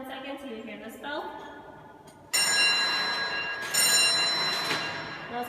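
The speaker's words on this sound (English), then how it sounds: "that's called a retardation bell" A retardation bell on a Lily hoist controller rings out with sharp, bright clangs that strike twice and sustain with a metallic ring, following a voice talking just before.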